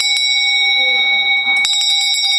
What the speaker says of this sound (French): Je voudrais aussi se faire sonner la cloche